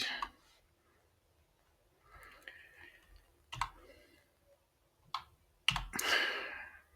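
Keyboard keys clicking on a computer during desktop work, with scattered near clicks and short bursts of typing plus a louder clack cluster near the end, over quiet room noise.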